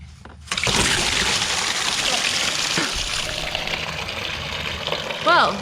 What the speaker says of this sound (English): we'll drop this lower radiator hose just to make sure that we get all the coolant out as much as possible